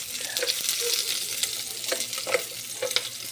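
Meat fries in Ricardo oil with a steady, close sizzle, broken by several sharp scraping stirs of the pan; no one speaks.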